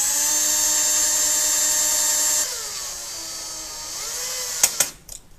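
A power drill runs close and steady as it drives junction box screws into a ceiling plate for a pool table light, its whine dropping in pitch under load, then a few clicks and clatters as it stops.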